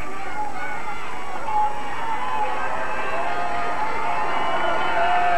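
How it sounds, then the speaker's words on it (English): Excited high school crowd in Hilton, New York cheering at match point, a steady loud roar of voices filling the gym without a break. "And the Hilton crowd can certainly feel it. They're excited."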